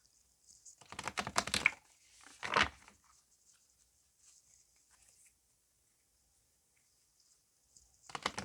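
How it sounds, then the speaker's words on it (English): Two quick riffling bursts of cards being shuffled close by, followed by near silence, then another shuffle starting at the end. "They want me to shuffle 6 times."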